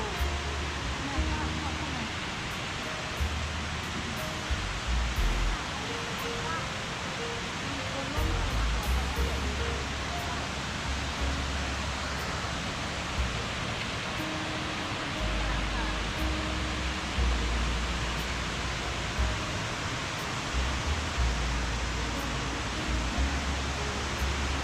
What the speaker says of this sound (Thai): ต้องมาชม ทิวทัศน์ที่สวยงามของน้ำตกตาดกวงซี